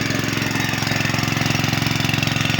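A petrol motor water pump engine runs steadily and loudly up close, its rapid even chugging pulse holding without change throughout.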